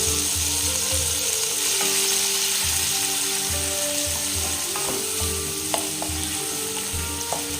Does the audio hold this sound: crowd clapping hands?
no